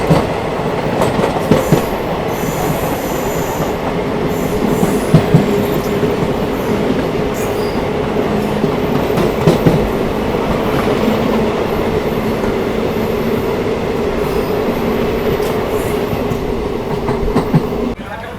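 Narsapur Weekly Express train rolling on rails after departing Nellore station, with a steady loud rumble and rattle heard from on board and occasional sharper wheel clacks throughout.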